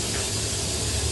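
A can of olive oil spray hisses in one steady, close burst into a baking pan for an Italian chestnut cake.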